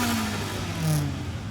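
Engine of a tuner car, a 350 with an underbody light bar, rolling into a car meet: a steady, close mid-pitched drone with a slight rise in revs partway through, no talking over it.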